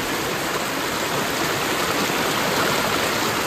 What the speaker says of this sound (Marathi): या व्हिडिओला पाण्याचा वगैरे बॅकग्राऊंड व्हॉइस खूप येणार आहे